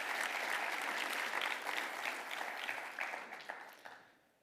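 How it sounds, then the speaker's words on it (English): An audience at an engineering capstone design showcase claps in a full, steady burst of applause that thins out and fades to quiet near the end. "so one more hand of applause for the guys"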